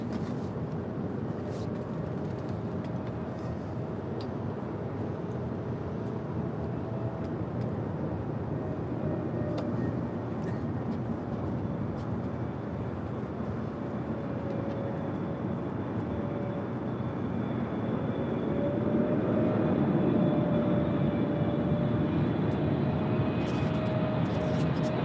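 An airliner near the runways at LAX, a constant broad jet roar with a thin engine whine that swells louder around the last few seconds, with faint voices underneath.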